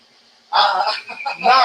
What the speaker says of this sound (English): The birds are out singing.